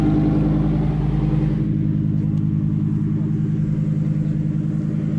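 Naturally aspirated V10 of a matte grey Lamborghini Huracan Evo, a steady loud rumbling drone at idle or low revs, close by, easing slightly after the first second and a half.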